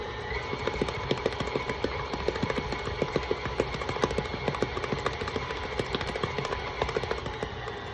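Electric mixer beating buttercream for vanilla and chocolate swirl cupcakes, running at increased speed with a steady whirring drone and a quick rhythmic clatter of the beater against the bowl, moderately quiet.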